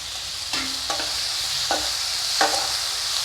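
Tomatoes and onions sauté in a pan with a soft steady sizzle, broken by four short scraping stirs of a spatula at irregular intervals, close and moderately quiet.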